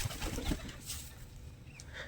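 White high-flyer pigeons make a soft, close flutter and low coos over faint background noise in a short, quiet moment.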